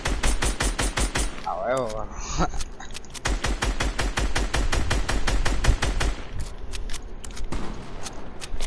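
Rapid, loud gunfire fills a shooting video game, with continuous close bursts of shots and a brief excited voice speaking partway through.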